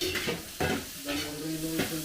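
Garlic and onion frying in a pan while being stirred, with short scraping stirs and a steady sizzle running throughout; the dish is a caldereta with chorizo de Bilbao, cooked in a big batch for a fiesta.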